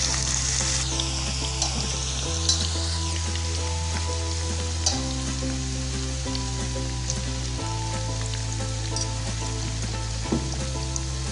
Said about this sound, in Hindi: तेल हमारा गर्म हो चुका है, इसमें अब हम गाजर को डाल देंगे, फ्राई करेंगे गाजर को।